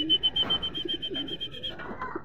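Racing pigeon Karina at the home loft on arrival, with a rapid series of bright, regular chirping pulses and soft pigeon cooing close by, and a faint voice in the background.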